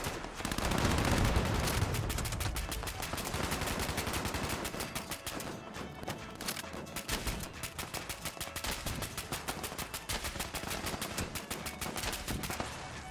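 Assault rifle fired in VATS in Fallout 76 delivers a long, steady stream of rapid, evenly spaced shots, loud and close, continuing without pause.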